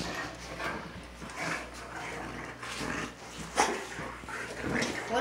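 A boxer and a Great Dane wrestle and play, growling, whimpering and giving the odd bark amid scuffling, at a modest level with a louder burst near the middle.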